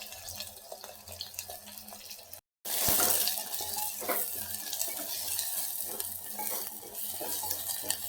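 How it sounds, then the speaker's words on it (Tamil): Chopped onion frying in a pan gives a steady, close sizzle with stirring scrapes and clatter, cut off by a brief silent gap before the frying resumes louder, with no voices. "வெங்காயம் நல்லா செவந்து வருது பாருங்கள்."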